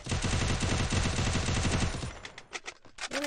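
Rapid automatic gunfire from a video game, a dense burst of shots followed by a few scattered single cracks.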